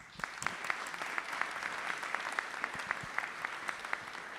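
A steady, faint wash of applause from the audience at a Dearborn community council mayoral debate, with a few sharper claps standing out and no talking.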